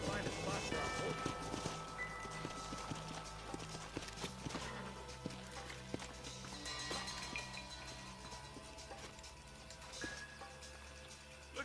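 Horse hooves clip-clop at a steady trotting rhythm in the Western video game Red Dead Redemption, sitting under other game sounds and voices throughout.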